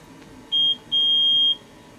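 Two clear, high-pitched electronic beeps sound over quiet room background: a short one, then a longer steady tone.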